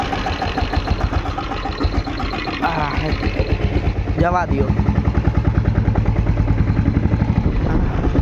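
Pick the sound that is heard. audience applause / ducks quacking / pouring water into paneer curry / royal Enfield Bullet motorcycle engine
royal Enfield Bullet motorcycle engine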